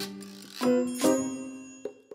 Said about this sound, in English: It's hard to believe that after 130 plus years, this bell still rings true.